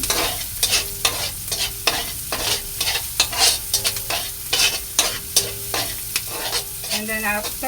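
Sautéed chayote and glass noodles stirred in a hot pan, a steady sizzle punctuated by a rapid, regular run of scraping strokes, loud and close, with no one speaking.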